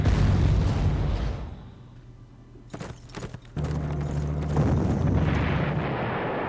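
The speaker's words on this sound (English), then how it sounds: "Look at that artillery." Artillery barrage in the WWII strategy game Panzer Corps, Modlin 1939: heavy rumbling explosions, a loud roaring blast at the start, a lull with scattered pops, then sustained booming rumble returning.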